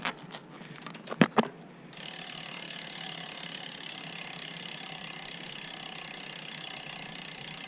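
Road bike rear wheel freewheeling, its freehub ratchet buzzing in a fast, steady run of clicks after a few louder handling knocks at the start, close and even throughout.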